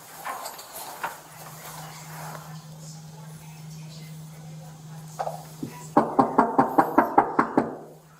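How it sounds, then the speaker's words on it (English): A police officer knocks on an apartment door in a hallway, a rapid series of about eight firm raps near the end, preceded by quieter room ambience and a brief faint voice. "he knocks on the door when he gets there"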